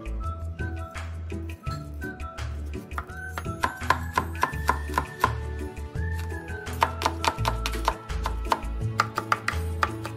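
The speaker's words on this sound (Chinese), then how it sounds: "红辣椒1条，剁细" A knife chops a single red chili finely on a cutting board, a steady run of quick, crisp taps close by, with a low hum running underneath and no talking.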